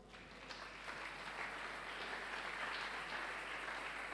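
A church congregation applauding and cheering for the Lord, a steady wash of many hands clapping at moderate distance that swells slightly and holds for several seconds, with no speech over it.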